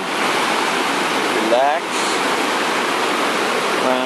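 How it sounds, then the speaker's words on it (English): Steady, loud rushing water from a small stretch of the Purgatoire River in Trinidad, Colorado, flowing continuously close by while a voice speaks briefly over it. "It's a little part of the Purgatoire River."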